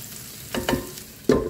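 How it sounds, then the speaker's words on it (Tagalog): Onion being sautéed in a pan for seafood paella, with a few stirring scrapes and bursts of sizzle rising over a low frying background, no talking. "Igigisa natin kasama ng sibuyas"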